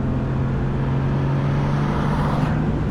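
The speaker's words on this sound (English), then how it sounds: "full throttle in 4th is really something" A Singer-restored Porsche 911 Turbo engine pulls hard at full throttle in fourth gear, a steady, loud, sustained drone with rising pitch heard from inside the cabin.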